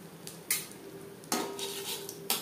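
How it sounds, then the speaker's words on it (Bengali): Asafoetida hits hot mustard oil in a pan, giving a soft continuous sizzle punctuated by three sharp utensil clinks against the metal, close and moderately quiet. "তেল গরম হয়ে গেছে, এবার দিয়ে দিলাম"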